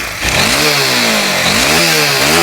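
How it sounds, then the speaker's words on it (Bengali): A Honda CBR motorcycle engine runs steadily close by in a workshop before servicing, with a loud continuous tone that rises and dips in pitch as the throttle is blipped, and no voices over it. "এই হইল বাইকের সাউন্ড কোয়ালিটি"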